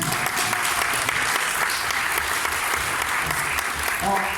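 Dense, continuous audience applause fills the room at the inauguration of a local FM radio station, many hands clapping steadily and close for several seconds, with faint voices underneath.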